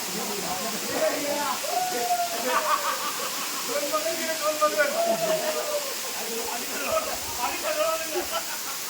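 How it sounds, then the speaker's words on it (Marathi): A steady rushing hiss of falling water fills the background while people talk over it. "हे धबधबो आहे"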